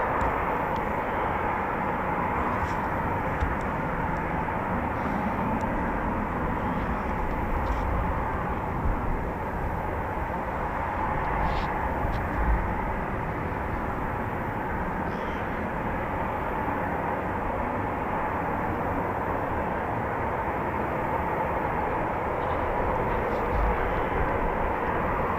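An RAF 41 Squadron Eurofighter Typhoon FGR4 taxiing out at RAF Coningsby gives a steady, moderately distant jet rumble and whine that holds evenly throughout, with no talk over it.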